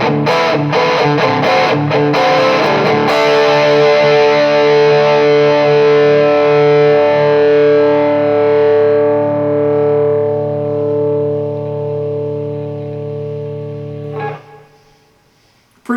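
Electric guitar played through a Vox VT40X Valvetronix amp with noise reduction, loud distorted chords ringing out and sustaining for many seconds, then fading smoothly before being cut off near the end.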